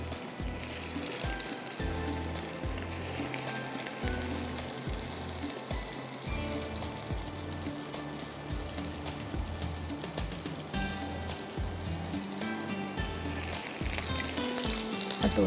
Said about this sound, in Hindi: दो तीन इसको फ्राई करते हैं